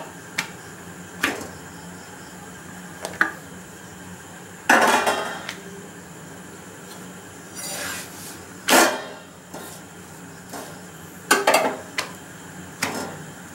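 Four parathas set one after another onto a hot pan, heard as sporadic clatters and scrapes of utensil on metal over a faint steady kitchen hiss, with no talking.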